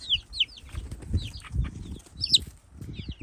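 Little chicks peep in short high bursts among chickens of the flock, with soft rustling and shuffling of birds close by and no talking.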